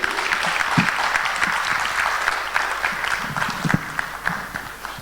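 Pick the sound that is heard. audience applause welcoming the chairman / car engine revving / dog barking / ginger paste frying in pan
audience applause welcoming the chairman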